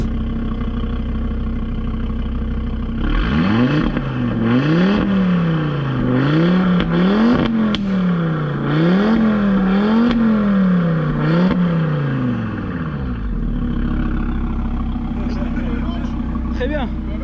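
A tuned Audi RS3 Stage II engine revs hard several times in a row, each rise and fall loud and close, with people talking over the engine.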